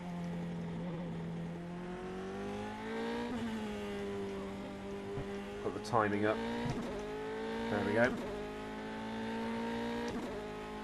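An ASR Formula 3 open-wheel race car engine in rFactor 2 drones steadily at high revs with a rising and falling pitch, shifting through quick rev blips near the middle, while someone talks over it.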